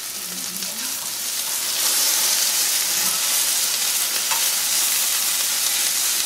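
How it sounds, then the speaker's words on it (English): Vegetables roasting in a cast iron pan, a steady loud sizzle and crackle of oil with a hissing wash that swells slightly partway through, close and continuous with no voices. "I definitely like the cast iron pan a little better to do the roasting"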